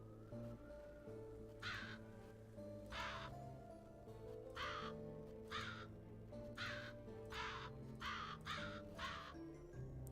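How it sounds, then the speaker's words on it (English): A crow in a video game caws again and again in rough bursts, some singly and some in quick clusters, over a low droning background of game music or ambience. "Where did our crow friend go?"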